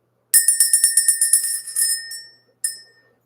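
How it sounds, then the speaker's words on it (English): A bicycle-style bell rings in a fast ding-ding trill of about ten bright metallic strikes, followed by a longer ringing tone and one more single ding that decays cleanly, with no talking. "let's ring the bell."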